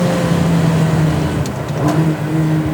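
A Ferrari 360 engine being blipped, its idle rising into a quick rev and settling back, heard up close and loud as a continuous engine drone with a pitch shift partway through, with no talking.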